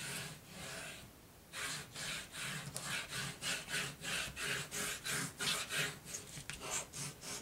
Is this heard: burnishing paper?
yes